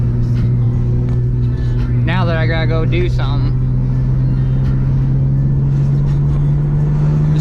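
Traffic on a road heard from inside a moving car: a loud, steady low engine drone and road rumble fill the cabin while someone talks briefly over it.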